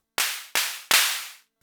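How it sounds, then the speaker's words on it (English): Analog snare voice on an Arturia DrumBrute Impact drum machine set to a clap, struck three times in a quick uneven pattern, each a sharp bright burst with a short noisy tail, the last ringing slightly longer, close and alone. "The second snare doubles as a clap."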